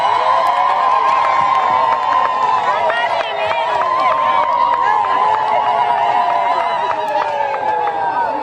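A large crowd cheers and ululates loudly and without a break, many shrill voices trilling and whooping over a dense roar of chatter.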